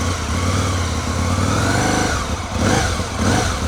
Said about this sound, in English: Smooth, it sounds really, really smooth,